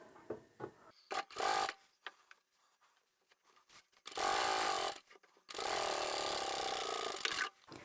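A sewing machine top stitches fabric with the stitch length set to 4, working in several bursts of whirring needle clatter. The short runs come first, then two longer passes, separated by quiet handling sounds.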